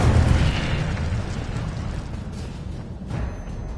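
The Incendio fire spell from the Hogwarts Legacy video game bursts into a dense, roaring explosion. A loud rumbling boom at the start tails off into a sustained crackling, fiery roar for several seconds, with no speech.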